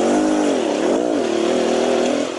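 A 2018 Beta Xtrainer 300 two-stroke dirt bike engine lugs in third gear just above idle, a loud, steady low throb with slight rises and dips in pitch throughout.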